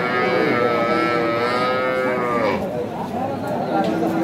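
Cows and calves at a rural cattle market in Thakurgaon, with loud, close, drawn-out moos, one long low call sliding down, then fainter market murmur.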